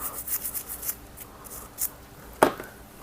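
Real gold jewelry is rubbed by hand to polish it, giving soft, quick, close scrubbing strokes followed by a sharper brushing sound near the end.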